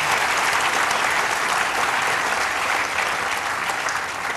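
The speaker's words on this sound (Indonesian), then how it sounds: "kalau gitu kita berikan aplaus dulu dong" Steady, dense audience applause at a tribute event for Djon Koeswoyo, loud and sustained throughout with no break in the clapping.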